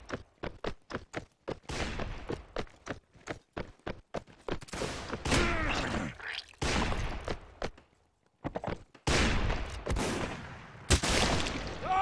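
Volleys of musket fire in a Mount & Blade North and South battle at Little Round Top, rapid loud cracks in ragged bursts that build into dense, overlapping gunfire with rumbling echoes.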